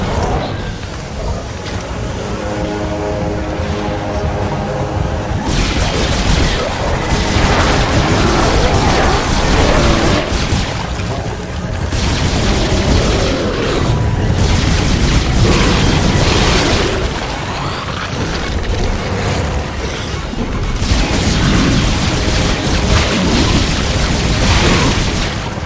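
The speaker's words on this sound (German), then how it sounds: "Boah, wie viel Munition ich hier verprasse" Gunfire and explosions in the Dead Space 2 video game's finale, with heavy booms, bursts and crashing impacts that come in loud, dense waves and brief lulls.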